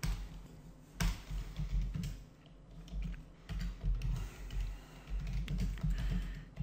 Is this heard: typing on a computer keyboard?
yes